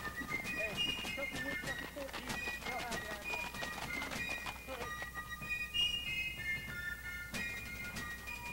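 Shire horses walk along with irregular clip-clopping hooves, close by, mixed with faint bird chirps and a speaking voice over the top.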